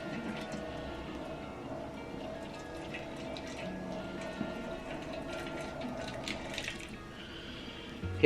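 Warm water runs from a kitchen tap, filling a small bath for setting bubble tea popsicles, with a continuous splashing flow that holds steady for several seconds and a few faint clinks.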